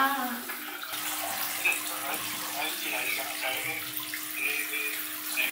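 Water runs steadily into a bathtub at home, a continuous broadband rush that fills the whole clip at a moderate level, with a faint voice talking softly to a baby in the background.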